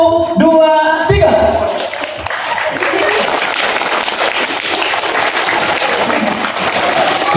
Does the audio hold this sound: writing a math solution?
no